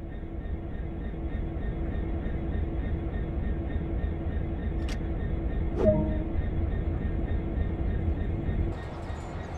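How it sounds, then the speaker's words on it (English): A diesel locomotive without wagons in the game Train Sim World, a steady low engine rumble throughout with a couple of brief clicks near the middle. "Now apply some power and get this train moving."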